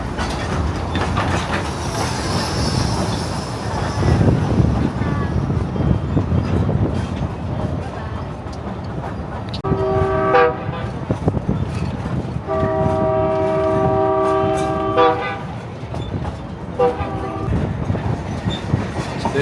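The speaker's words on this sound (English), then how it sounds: "There's that steamy engine." Durango & Silverton narrow gauge steam engine running, with a constant rumble and clickety-clack of rolling cars and several long whistle blasts in the middle, loud and nearby.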